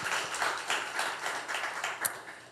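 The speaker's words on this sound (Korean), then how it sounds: "우리 하나님께 영광의 박수 올려드리겠습니다." Church congregation applauding after a prayer, a moderate, fairly rhythmic patter of many hands clapping together in pulses, fairly close, with a sharp tap near the end.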